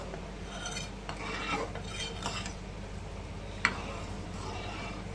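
Spoon stirring drumstick soup in a pot after lemon juice and chaat masala go in, soft scraping and clinking strokes at a quiet level with one sharper tap of metal near the end.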